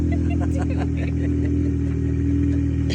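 A Dodge Challenger fitted with an MBRP exhaust idles with a deep, steady rumble, loud and close, while people talk briefly over it.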